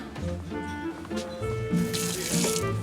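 Water runs steadily from a just-repaired kitchen tap into a sink, a continuous splashing flow heard close, with a faint musical background underneath.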